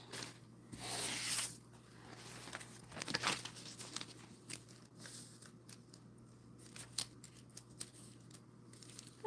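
Scissors cutting sewing pattern pieces for a Siah Sidekick bag, heard as quiet close snips and paper rustling and crinkling in irregular bursts over a low steady hum, with no talking.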